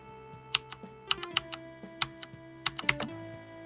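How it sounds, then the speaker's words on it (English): Typing on a Logitech G610 mechanical keyboard fitted with brown switches: irregular sharp key clicks, close and clear, with a couple of quick doubled strokes and a faint steady hum beneath. "These are brown switches and the G610."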